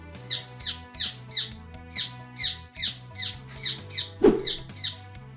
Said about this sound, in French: Et forcément du coup il piaille maintenant.